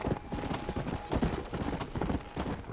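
Horse hooves clip-clop in steady galloping rhythm in the Red Dead Redemption Undead Nightmare video game, continuous and fairly close across the whole short stretch.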